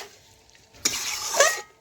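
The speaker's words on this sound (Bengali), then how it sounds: "এই দেখুন এখন আমি ভালোভাবে মিশিয়ে নিচ্ছি চিকেনের সাথে।" Chicken being stirred and mixed in a hot pan gives a brief scraping stir that swells into close, crackling sizzle for about a second before fading, with no talking.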